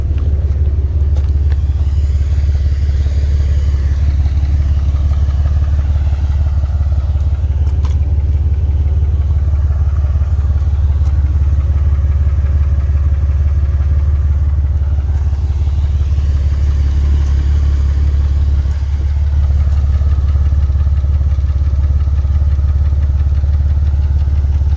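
A Porsche engine with a ticking, knocking fault runs loudly and steadily throughout, a deep continuous rumble with no clear change in pace.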